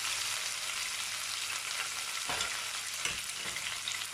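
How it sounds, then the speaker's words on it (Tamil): Mint and coriander leaves dropped into hot oil for a restaurant-style chicken gravy, giving a steady, dense sizzle throughout with a few brief stirring scrapes near the end. "இப்போ இந்த எண்ணெயிலேயே நம்ம புதினா, கொத்தமல்லி போட்டுடலாம்."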